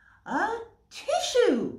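A voice imitates a sneeze in two bursts, a rising gasping intake followed by a louder, breathy explosive release, close and clear with no other sounds around it.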